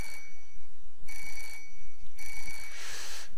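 Telephone ringing in the video game Parasite Eve 2: a loud electronic ring in repeated bursts with short gaps, three rings in quick succession and no speech.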